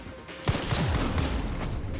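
Gunfire from a film plays over a television: a sharp opening shot, then a sustained fusillade of rapid, overlapping shots that stays loud and dense to the end.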